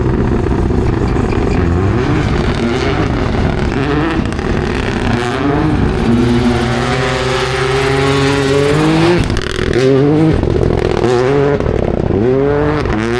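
A Toyota Yaris Rally2 rally car warms up its tires, engine revving and wavering loudly and continuously up close, with changing pitch sweeps as it accelerates and slides.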